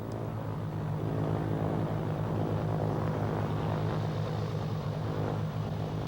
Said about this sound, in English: It was with a little apprehension that I approached flying my airplane once again